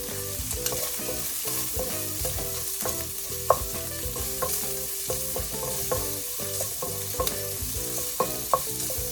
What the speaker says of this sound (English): And then just let it sizzle.